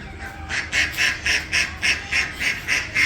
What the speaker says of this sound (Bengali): এই যে হাঁসগুলো আবার আসতেছে